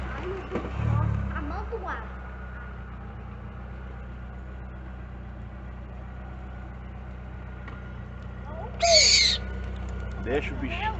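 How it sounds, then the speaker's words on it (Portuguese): An owl hoots at night in a town, with one low hoot near the start and a sharper call later, over a steady idling vehicle engine, while people talk quietly. "Olha que coruja vagabunda."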